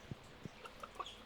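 Chickens in the farming video game Stardew Valley give a few faint, short clucks, soft and spaced over a quiet background.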